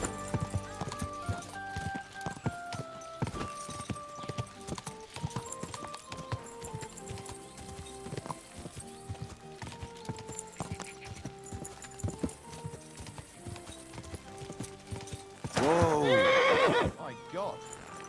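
Galloping horse hooves and a neigh in Kingdom Come: Deliverance 2, steady clip-clop running under background music and talk, then a loud close whinny near the end.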